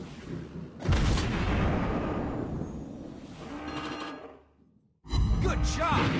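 Naval guns fire in World of Warships Blitz from the cruiser USS Cleveland: a heavy boom rolls out and fades, then a second sharp blast hits near the end. Both are loud and close, in a game setting.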